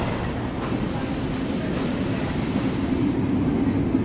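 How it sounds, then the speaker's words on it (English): A heavy train rumbles steadily along the rails, a dense low roar with faint metallic hiss, close and continuous without pause. "Fatty want us to take this goods train from Vickerstown to here"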